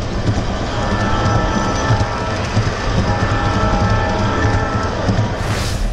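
A model train runs along the track, captured from a camera mounted on top of the locomotive, giving a steady, loud rumble with rhythmic clickety-clack from the wheels throughout, rising in hiss at the end.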